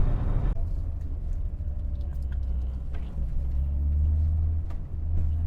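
A Volkswagen Golf MK1 GTI with a 1600 engine idles smoothly, a steady low rumbling hum that holds even and close throughout, with no voices over it.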